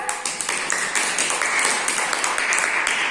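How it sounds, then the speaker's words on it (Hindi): Children in a classroom activity clap together, a scattered, continuous patter of hands sustained for a few seconds with no talk over it. "शाबाश, तालियां बजाओ सब।"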